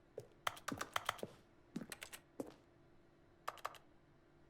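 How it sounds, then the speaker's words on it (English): Keyboard typing sounds triggered by boxes in The Stanley Parable video game: quiet, crisp clusters of key clacks in short irregular bursts separated by brief pauses, over a faint steady hum. "I'm making keyboard sounds on these boxes, apparently."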